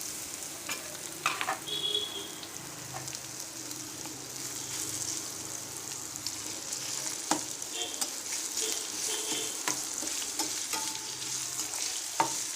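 Boiled raw banana pieces for aava petti curry fry in a pan with a steady, moderate sizzle, dotted by occasional spatula scrapes and taps as they are turned.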